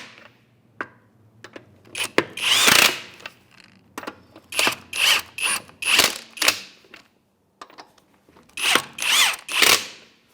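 Power tool with a 21mm socket tightening wheel lug nuts on a 2011-2016 Hyundai Elantra during a front brake job, heard as a series of short, loud whirring bursts separated by brief pauses.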